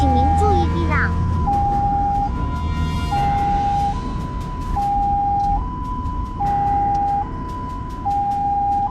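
An ambulance on an emergency run sounds a loud, close two-tone siren that alternates steadily between high and low pitches over road noise, with a brief voice near the start.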